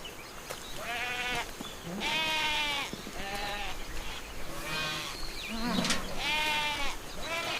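Several goats at a goat farm bleat loudly one after another at feeding time, wavering cries close by, over a constant hiss of outdoor noise.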